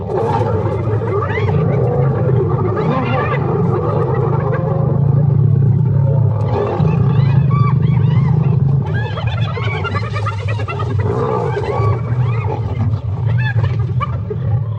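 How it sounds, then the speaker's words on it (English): Lions and hyenas clash in a chaotic fight, with deep roars and growls layered over frantic whooping and cackling calls, loud and continuous. "As the numbers mount up, the battle begins."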